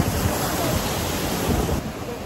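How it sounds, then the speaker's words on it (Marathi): Large sea waves breaking along the Konkan coast, a steady broadband roar of surf with wind buffeting the microphone, continuous and fairly loud throughout. "पाहिले असतील तुम्ही लाटा किती मोठ्या लाटा आहेत"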